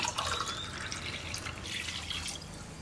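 Water pours and splashes steadily into a pressure cooker for chicken biryani, a soft continuous trickle close by.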